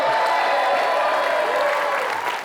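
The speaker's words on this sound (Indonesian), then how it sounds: "Tepuk tangan semua boleh?" A studio audience at a televised Indonesian dating show breaks into sustained applause, a dense, loud wash of clapping that holds steady for a couple of seconds.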